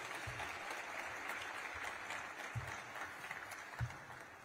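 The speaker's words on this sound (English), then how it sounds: "can we give another round of applause to Representative Carson and Secretary Buttigieg?" Steady applause from a conference audience, a continuous wash of clapping with a few louder claps standing out, fairly close and even throughout.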